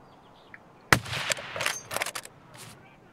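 Gunfire in the video game Escape from Tarkov: a sharp single shot followed by a few short ragged bursts, fairly quiet overall and fading out within a couple of seconds.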